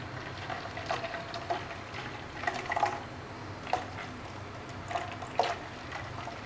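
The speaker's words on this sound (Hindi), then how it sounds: "तो हम डालेंगे अब इसमें पानी, इसमें डालेंगे पानी।" Water is poured into a blended almond sardai mixture, giving soft liquid splashes and drips that come in irregular bursts, fairly close and quiet, with no talking.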